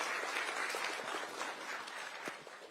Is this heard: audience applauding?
yes